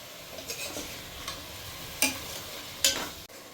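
Curry leaves and masala sautéing in a pan for chicken chintamani, a soft steady sizzle with a few sharp spoon scrapes and clinks against the pan.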